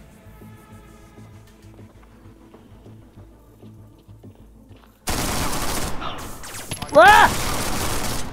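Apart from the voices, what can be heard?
gunfire in VR video game Wanted Killer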